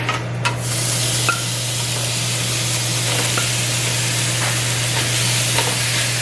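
Shrimp dropped into a pan on medium heat sizzles with a constant close hiss, broken by a few faint clinks and pops, with no talk over it.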